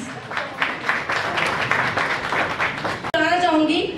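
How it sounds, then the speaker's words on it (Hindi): An audience at a music album launch event applauds for the album's editor, a dense rolling wave of clapping under a voice on a microphone. "एक बार जोरदार तालियां हो जाए प्लीज।"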